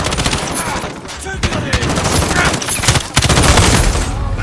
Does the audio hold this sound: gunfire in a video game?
yes